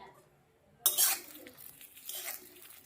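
Metal spoon scraping and clinking against a pan while jujube (kul) pickle is stirred over low gas, two short bursts of close clatter with quiet gaps between.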